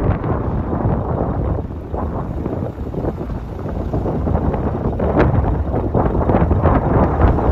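Strong storm wind roars at Mallorca airport, a loud, continuous gusting rumble with buffeting on the microphone and no voices.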